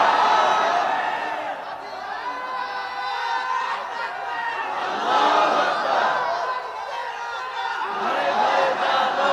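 A large crowd at a religious sermon roars the takbir chant Allahu Akbar in loud, sustained waves of massed voices swelling and dipping together.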